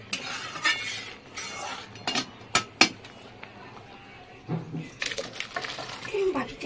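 Dishes clink and a ladle knocks against a steel pot as cooked mixed dal is served into a bowl in a home kitchen, with scattered metallic taps over a soft background.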